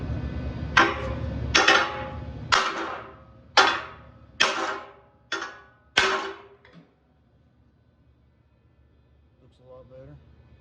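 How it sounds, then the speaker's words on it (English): A hammer strikes down a sticking-up end, seven loud, ringing blows at a steady rhythm, close by, followed by quiet and a few faint sounds. "I'm just gonna hammer it down."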